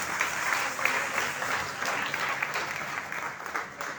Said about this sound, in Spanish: Yo quiero un fuerte aplauso para estos dos próceres que acaban de llegar